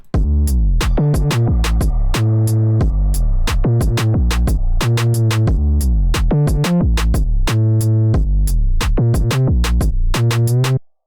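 A simple electronic beat loops steadily, punchy drum hits and a deep bass line repeating in a tight rhythm, loud and upfront.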